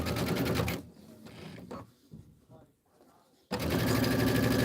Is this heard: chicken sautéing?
no